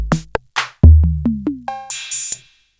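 Elektron Analog Rytm analog drum machine playing its basic sounds one after another: deep kick, snappy hits, pitched toms with short decays, then bright hi-hat and cymbal hits, loud and close with no talk.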